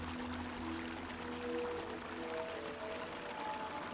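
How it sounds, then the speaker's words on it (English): Clear water rushing down a waterfall in a forest clearing, a soft and steady wash of water with gentle sustained musical tones faintly underneath. "clear water rushing down this waterfall"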